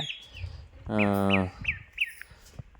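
Pet ducks kept on a small farm, one drawn-out nasal call up close with a few thin, high chirps around it.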